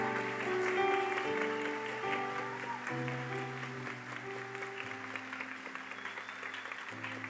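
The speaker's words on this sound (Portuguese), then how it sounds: "recebendo não só os aplausos, mas o aceno do lenço" A church congregation applauds during a Saturday worship service, with steady clapping that fades slightly and sustained organ-like musical tones underneath.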